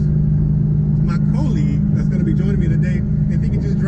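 Dodge SRT Hellcat exhaust drones steadily during acceleration, a loud low hum that holds throughout, with a person talking over it.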